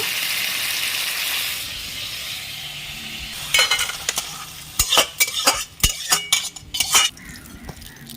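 Crab sizzles in hot oil in a pan, a soft hiss at first, then a quick run of sharp metal spoon clacks and scrapes against the pan.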